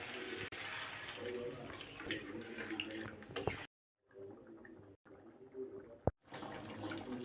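Water poured into a pot of fish head and potato curry, a steady splashing pour that stops and restarts in short bursts, with a brief sharp clink between pours.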